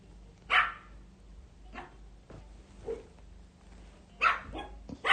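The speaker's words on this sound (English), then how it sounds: "Yes, I have puppies." Puppies bark in a few sharp, separate yips and barks, one early and a cluster near the end, mid-distance and moderately loud over a low steady hum, with no talk.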